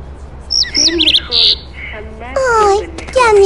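Small cartoon bird chirping and trilling in an animated My Little Pony episode, a quick run of high warbling tweets and rapid trills, then longer sliding calls, close and loud.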